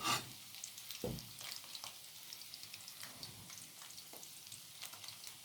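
Battered pieces frying in a pan at a Chinese dinner party, a faint, even crackle and sizzle with a couple of soft thuds, no voices.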